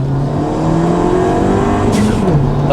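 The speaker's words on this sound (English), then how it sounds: "It sounds tinny. Like tinny, like a tinny, like raspy exhaust." Ford Fiesta ST with a hybrid turbo setup makes a raspy, tinny exhaust note, a loud close engine drone that shifts pitch briefly as it revs.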